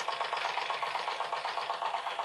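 A small model stationary engine ticks over steadily, driving Meccano pulleys of different sizes, with a quick, even chuffing pulse at moderate to faint level and no voices.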